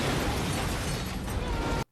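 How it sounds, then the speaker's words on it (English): A towing boat blowing up as an explosion sound effect: a dense, roaring blast of broadband noise that holds loud and steady for almost two seconds and then cuts off abruptly. "the towing boat goes bang"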